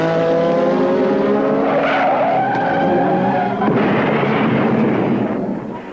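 A McLaren Formula 1 car crashes at the 1981 Italian Grand Prix at about 150 mph, with screaming engine and skidding tyres giving way to a violent mid-clip impact and a rough, loud scraping roar.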